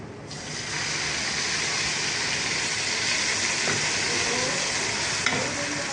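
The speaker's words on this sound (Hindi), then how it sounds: "मछली हमारी फ्राई हो रही है" Fish fries in a pan with a steady, close, broadband sizzle that holds evenly throughout, with only a faint click partway through and no talking.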